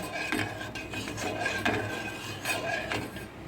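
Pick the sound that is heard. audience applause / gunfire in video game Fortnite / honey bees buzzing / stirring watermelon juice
stirring watermelon juice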